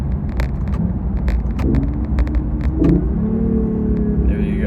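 A BMW i8's 1.5-liter turbocharged engine rumbles close by in sport mode, revving and dropping pitch through a couple of downshifts, with a faint voice briefly underneath.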